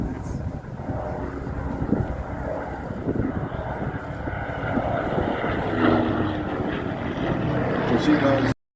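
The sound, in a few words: warbird aircraft flying at Warbirds over Wanaka airshow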